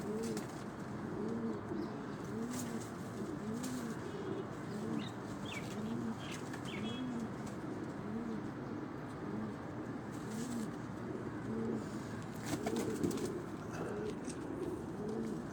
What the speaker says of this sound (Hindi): ये सब उनके परफॉर्म किए हुए उनके कबूतर हैं।